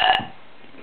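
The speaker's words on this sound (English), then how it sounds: "How do you make yourself burp?" A single short burp, loud and close at the start, fading into quiet room noise within a second, with no talking.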